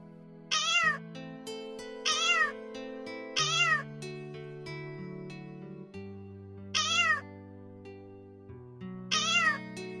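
Kitten meows in a children's stage play, five clear rising-falling meows spaced across the stretch, sounding over sustained piano-like music and background accompaniment.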